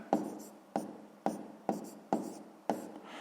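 Pen on paper during a sixth-grade maths exercise, six short regular strokes, each a sharp scratch that trails off, close and quiet with no voices.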